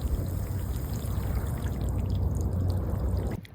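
Sea water washing over a shell-covered beach in Fuertaventura, a bright, fizzing, glittery hiss as the wave drains through the shells, steady and close, then cutting off abruptly.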